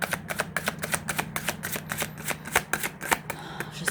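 Oracle cards being shuffled by hand, a quick run of crisp riffling bursts repeating at a steady pace, close and fairly quiet.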